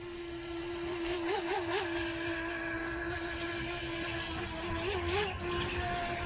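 WLToys WL912-A RC boat with a 390 motor running on water and making sharp full-lock turns, a steady high motor whine with brief pitch wobbles through the turns over constant outdoor wash.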